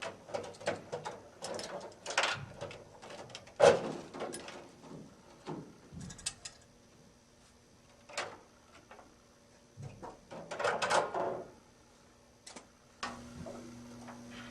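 Metal door lock cover and shim being removed from the shell front of an industrial washing machine: scattered clicks, ticks and sliding metallic scrapes in irregular bursts, fairly close and moderate, with quiet pauses between handling noises.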